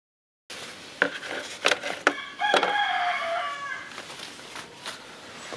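A farm rooster crows close by in one long, loud cock-a-doodle-doo, with a few sharp knocks and clucks around it and no talking.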